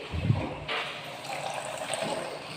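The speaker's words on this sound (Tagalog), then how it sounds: "Tapos bubuksan lang yung mga tubig." Water taps in a chemistry lab sink turned on, a brief clunk followed by a steady, close rush of running water that continues evenly to the end.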